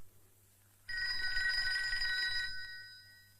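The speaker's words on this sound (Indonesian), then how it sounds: "Don, telepon bakal lo nih Don." A telephone rings in a 1990 Indonesian comedy film scene, its bright, steady electric bell trilling loudly for about a second and a half before stopping, with no talk over it.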